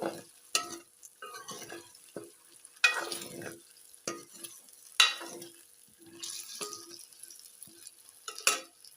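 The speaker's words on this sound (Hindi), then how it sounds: "अरबी को हम घी में फ्राई कर रहे हैं।" Taro root (arbi) frying in ghee in a pan, with a steady sizzle under repeated scrapes and clinks as a spoon stirs and turns the pieces, close and fairly loud.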